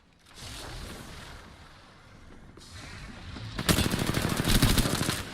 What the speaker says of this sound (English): Bad bots are shooting at me. I'm taking fire.